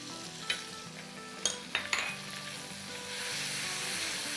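Onion with garlic and ginger paste sizzles steadily in a hot pan, with a few scraping clinks of a spoon stirring, the frying growing slightly louder toward the end.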